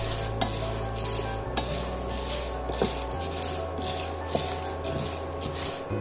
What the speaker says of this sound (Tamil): இதை இன்னும் நேரம் நம்ம வதக்கணும், ஆனால் அதை கரியாமல் பார்த்துக்கோங்க.